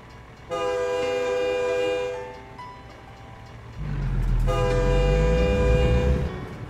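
A train horn sounds in two long blasts, the second over a rising rumble as the train rolls past nearby.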